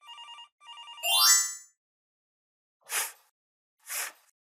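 A telephone rings in two quick electronic trilling bursts followed by a sweeping tone, then two short soft noise bursts, all clear and isolated against silence.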